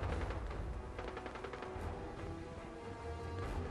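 Gunfire from the video game Fallout 4, a dense run of rapid shots and impacts in a continuous fusillade, fairly quiet and with no talking over it.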